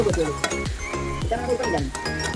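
Lemon pieces sautéing in oil for a lemon pickle give a sizzle broken by repeated rhythmic clinks and scrapes of a spoon against the pan, loud and close.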